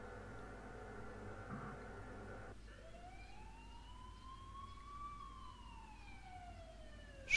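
An ambulance siren in the video game The Coma Cutting Class: a faint, distant wail that starts suddenly partway through and rises and falls slowly in a single long sweep against a low, quiet background.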